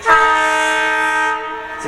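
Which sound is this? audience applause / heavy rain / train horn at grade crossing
train horn at grade crossing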